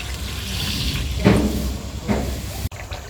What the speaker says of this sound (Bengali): জল দিয়ে দেবো এবার